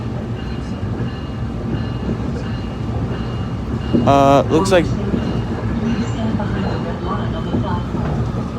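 A SMART passenger train running at top speed, heard from inside as a steady rolling rumble with a brief horn-like tonal burst near the middle, while a person speaks over it.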